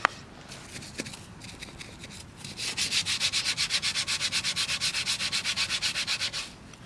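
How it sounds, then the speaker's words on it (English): A brush scrubs wheel cleaner off a very dirty BMW E46 rim in fast, even back-and-forth strokes, close and steady for several seconds, with no talking. "Rub it off with this brush."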